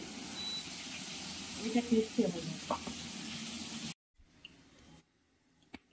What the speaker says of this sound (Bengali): টমেটো ডাইরেক্ট তেলে।